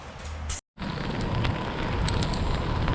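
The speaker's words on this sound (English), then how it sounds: "here comes the rain and hail again" Outdoor rain mixed with hail falls steadily, a dense close patter broken by a brief dropout before resuming, with no talking.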